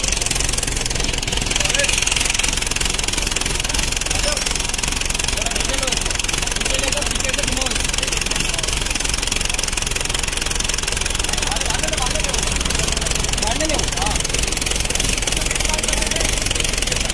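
A jeep engine with a pump fitted to it runs on a homemade jugaad crane, giving a steady, loud idle with a knocking clatter throughout. Voices talk over it.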